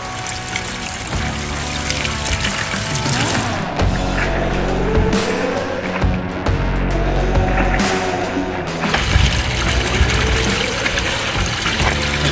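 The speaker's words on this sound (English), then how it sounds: "I'm just gonna get the bucket a little bit wet because it's creating a lot of dust" Water pours into a bucket of Home Depot sand in a steady close splash and trickle that runs continuously for the whole stretch, with a few shifts in flow.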